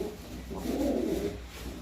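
A pigeon offered for sale gives a single low, throaty coo lasting about a second, close and fairly loud over a soft background hiss.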